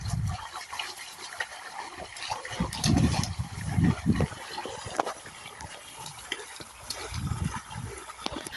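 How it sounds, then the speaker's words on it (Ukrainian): Water gushing from a damaged supply pipe and running off into a gully, heard as an irregular splashing trickle with louder gurgling bursts over a steady wash of flow. "через пошкодження вся вода витікає у балку"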